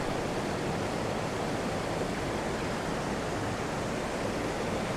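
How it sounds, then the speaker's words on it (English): Water rushing over the river weir at Great Alne makes a steady, dense roar. It is loud and continuous, with no pauses and no voices. "I love the sound as well, the water"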